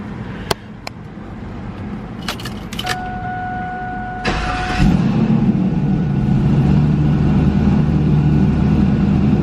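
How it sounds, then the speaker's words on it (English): Tuned WS6 Trans Am V8 with aftermarket cam, intake and headers, heard first as a few clicks and a chime before a loud, close crank and fire-up that settles into a steady, rumbling high idle. "now, when we fire this thing up, it runs pretty damn good"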